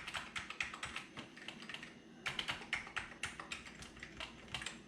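Keys on a worn Commodore Amiga 1200 keyboard, some stuck or broken, are pressed in quick irregular bursts of clicky taps, with a short pause before another flurry, fairly quiet and close.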